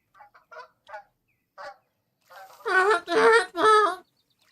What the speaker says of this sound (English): Get these freaking geese out of here, man. They're obnoxious.